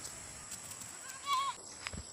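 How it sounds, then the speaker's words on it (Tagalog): A baby goat gives a single faint, brief bleat in a quiet outdoor setting, with soft rustling around it. "Here's one adorable baby goat."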